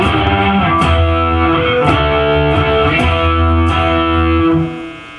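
A heavily distorted electric guitar plays a riff, loud sustained power chords in a steady rhythm that ring out and fade at the end, close and alone.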